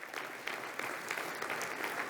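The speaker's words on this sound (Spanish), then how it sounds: "¿Puedes darle un aplauso a Él?" Church congregation applauding during a sermon, a brief burst of steady, fairly dense clapping from many hands at moderate volume.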